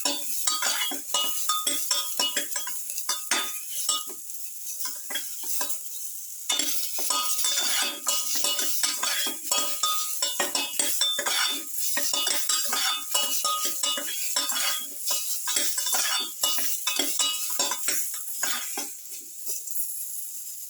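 Salted pumpkin pieces are sautéed and stirred in a pan, giving a continuous bright sizzle broken by frequent scraping and clinking of a utensil against the pan, with one brief pause partway through and no talking.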